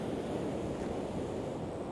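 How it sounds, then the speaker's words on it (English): Steady wind roar and breaking surf on an East Coast UK beach at Hornsea, a continuous broadband rush with no voices, loud and close to the microphone with some wind buffeting. "It's windy and there's a fair bit of surf on."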